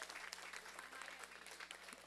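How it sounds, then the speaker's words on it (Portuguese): Steady applause from an audience at the launch event for the Braille edition of the Elderly Person Statute, a dense, even patter of many hands that is fairly faint and distant throughout. "Uma salva de palmas"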